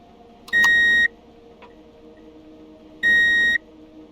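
Two electronic beeps from a custom sound effect in the game Empyrion, each a steady tone lasting about half a second, spaced roughly two and a half seconds apart over a low background hum.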